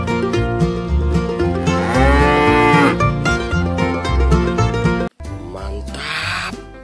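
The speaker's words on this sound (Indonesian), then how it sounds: "kakak menemukan seekor kerbau teman-teman" A water buffalo lows in long, loud, close moos with a rising and falling pitch, then breaks off after a brief pause into a rougher, noisier call.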